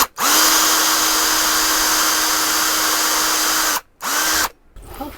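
A power drill whirs loudly and close at a steady pitch for several seconds while drilling a pilot hole in wood, stops briefly, spins again, then cuts out.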